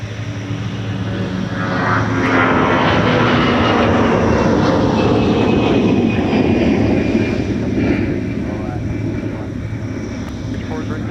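A Delta airliner jet moving on the ground at Minneapolis–Saint Paul airport, a loud steady engine roar and whine that swells and then eases slightly, heard outdoors at close range with a talking voice beneath it.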